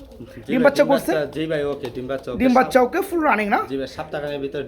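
A pair of chocolate-coloured fantail pigeons coo in soft, rolling, repeated phrases close by, with a voice-like quality blending into the calls.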